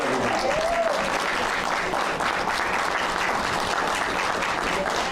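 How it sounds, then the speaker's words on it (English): Steady, dense applause from a crowd fills a meeting room for Kevin Howard, a continuous wash of clapping at even loudness with a faint voice briefly audible underneath. "Another round of applause for Kevin Howard."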